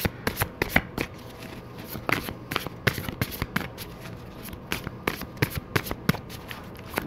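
Tarot and oracle cards being shuffled by hand, a steady run of crisp riffling snaps and soft slides repeating for several seconds, close and fairly quiet, with no talk.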